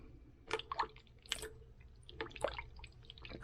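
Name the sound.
pouring Worcestershire sauce into red beans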